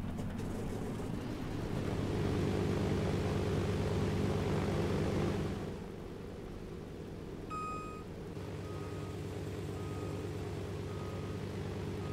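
A propeller airplane in the DayZ Mod video game comes in for a bumpy landing, its engine droning loudly before easing off mid-clip, with a few electronic beeps toward the end.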